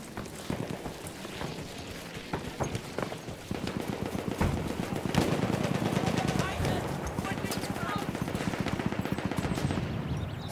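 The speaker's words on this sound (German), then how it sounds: "feindliches MG gesichtet." Enemy machine gun in the shooter game Rupture fires rapid, sustained bursts over a busy battlefield din, steady and fairly close, with voices shouting in the mix.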